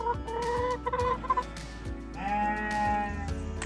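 Chickens cluck and squawk close by, with a rooster's drawn-out call and hen chatter overlapping in busy bursts.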